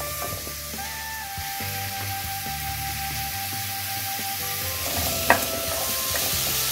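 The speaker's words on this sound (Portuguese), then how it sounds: "E vou refogar os meus legumes." Vegetables sauté in olive oil in a pan with a soft, continuous sizzle and light stirring, plus a brief clatter near the end.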